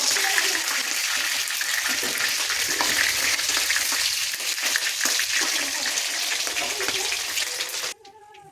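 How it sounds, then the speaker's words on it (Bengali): Marinated chicken pieces for chilli chicken frying in hot oil, a steady loud sizzle and crackle that runs nearly the whole time before cutting off abruptly near the end. "এবার ম্যারিনেট করা মাংসটা একে একে দেবো। একে দিয়ে দিয়েছি, এবার ভাজা হবে।"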